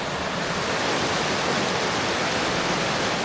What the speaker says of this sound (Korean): 아침 햇살을 받은 물소리가 청명하게 들립니다.